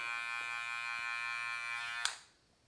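Electric hair clippers fitted with a 1/16 guard run with a steady close buzzing hum, then a click as they switch off and the sound quickly dies away.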